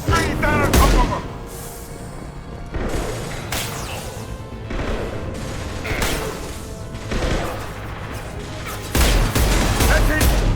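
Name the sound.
gunfire shooting down a fuel tank in the video game Mass Effect 2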